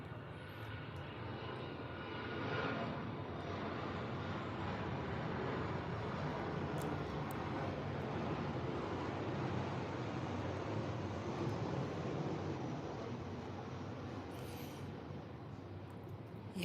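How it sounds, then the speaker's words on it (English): Airplane flying overhead, a broad continuous engine roar that swells gradually and holds steady for many seconds, fairly loud and alone without talk. "oh wait a minute, a plane is coming."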